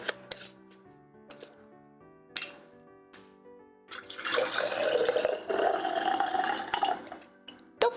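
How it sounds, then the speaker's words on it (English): Blueberry dye liquid is poured through a strainer, making a few clinks and taps at first and then a few seconds of splashing, trickling liquid close by, with no talking. "next we're gonna carefully strain these blueberries"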